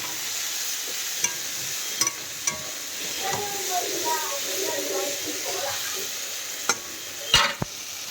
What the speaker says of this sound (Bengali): আমার মেয়ের জন্য কুমড়ো ভাজা করছি